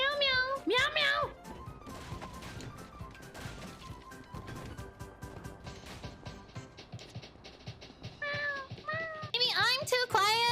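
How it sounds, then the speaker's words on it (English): A cat meows nearby in a few sharp, rising calls at the start and the end, amid scattered knocks and clatter, with a human voice mixed in. "There's a cat nearby."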